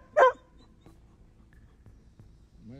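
A large dog gives a single sharp bark near the start, followed by quiet background with faint small sounds.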